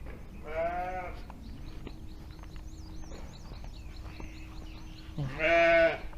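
Newborn lambs and ewes bleating on a farm shortly after lambing, two clear bleats near the start and end with quieter pen noise between.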